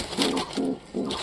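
A nesting domestic pigeon gives three short rounded coos in quick succession, close and fairly loud, with no talk over them.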